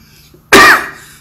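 A single sharp, close cough from a woman bursts out alone, followed by a brief fading tail.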